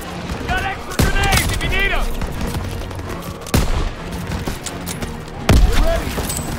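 Call of Duty WWII battle gunfire: bursts of rifle and machine-gun shots rattle steadily, with three loud heavy booms punching through, while soldiers shout orders over the fighting.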